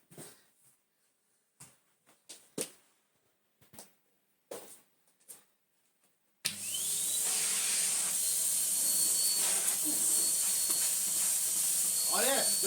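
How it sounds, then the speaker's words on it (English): A Numatic Henry vacuum cleaner, run bagless with its floor tool attached, starts up after a few quiet knocks and clicks, then holds a loud, steady whooshing roar close by until the end. "Connect up the tools. And do some vacuuming."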